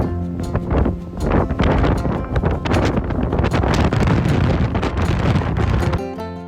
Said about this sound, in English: the Mother Earth, as if she is woken from the deep sleep, responds with a gusty wind